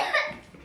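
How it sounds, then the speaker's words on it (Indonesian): A sick child gives a single short, soft cough, close to the mic and fading quickly into quiet. "anak-anak ini lagi pada sakit, pada pilek, pada batuk"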